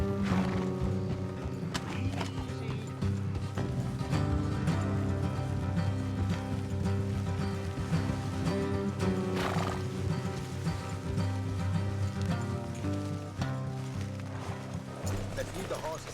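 Horses clop along at a trot with occasional whinnies in the video game Red Dead Redemption 2, set against a busy game soundtrack of music and ambient noise.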